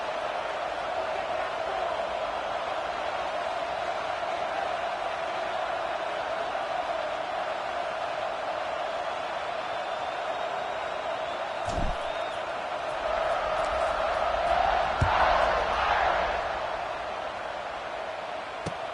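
A stadium crowd in a PS5 college football game roars in a steady wash of noise during a kickoff in a long-running rivalry, swelling louder toward the end.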